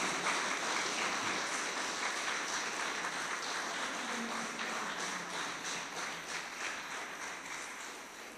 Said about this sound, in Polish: Gorące brawa dla laureata.